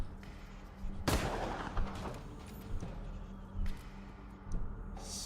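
Gunshots in the video game Wasteland 3: a loud sharp blast followed by several further booming shots at irregular intervals over a low rumbling backdrop, with no one talking.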